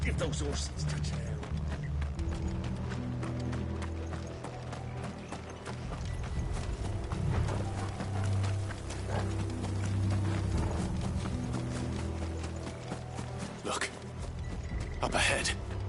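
Horses' hooves clip-clop steadily in the video game Final Fantasy XVI, mixed with mechanical clanking and rumbling, while voices talk over much of it.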